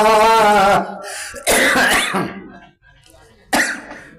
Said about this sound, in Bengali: কাশি লাগছে কেন?